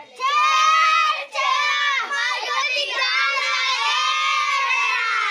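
Children shout and cheer loudly together at the Chher Chhera harvest festival in a Chhattisgarh village, a sustained crowd of young voices with a brief dip before carrying on.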